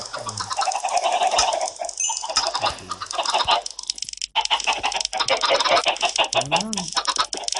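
A crowd of chickens clucks continuously in Minecraft Pocket Edition 0.14.0, with overlapping game-style clucks and squawks filling the sound close up, broken by a short lull.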